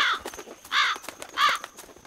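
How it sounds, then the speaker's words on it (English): Crows in the woods of the horror game Knock Knock give three clear, well-spaced harsh caws, close and distinct over quiet background ambience. "birds."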